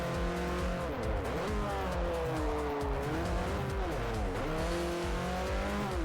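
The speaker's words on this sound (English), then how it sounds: "I think the engine sound is honestly like super loud." A race car engine in Forza Motorsport 4 roars loudly, rising and falling in pitch through gear changes, with tire squeal layered over the revving and no talking.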